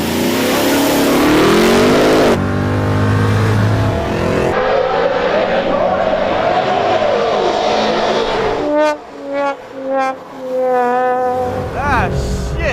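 A drag race car with a 727-cubic-inch engine roars hard off the line, loud and close, its pitch climbing through sustained revs before shifting into choppy bursts of revving and tire noise.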